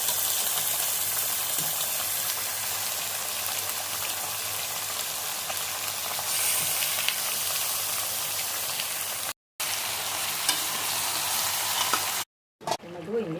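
Chicken fries in a pan with ginger paste and gives a steady, loud sizzle, bright and hissing like rain. It runs on with almost no break, apart from two brief dropouts near the end.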